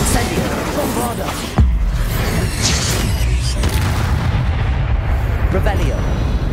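A Bombarda spell explodes in the Hogwarts Legacy video game, a sharp boom near the middle set in a dense, rumbling wash of combat sound effects.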